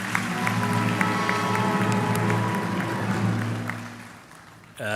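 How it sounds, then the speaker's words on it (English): Sustained applause from a large audience at a university graduation ceremony, a dense even clatter of clapping that holds for several seconds and then tapers off near the end. "Can we just give another round of applause to the group?"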